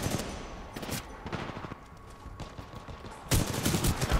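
Gunfire in Titanfall 2 during a pilot-versus-pilot online match, heard as bursts of rapid shots scattered through the clip, with a louder, denser burst near the end.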